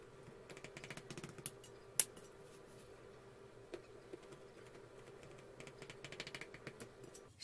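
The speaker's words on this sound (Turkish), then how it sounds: "4 bezeden baklavayı bitirdim. Şimdi kesiyorum." A knife cutting through a tray of layered baklava, giving faint, scattered crisp ticks and light taps against the tray, with one sharper click, quiet and close, with no voices.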